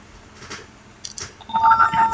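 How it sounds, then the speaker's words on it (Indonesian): A short electronic notification tone from a mobile app's location feature sounds during a phone app demo, a bright beeping chime rising near the end after faint speech. "Notif lagi karena kita keluar ya."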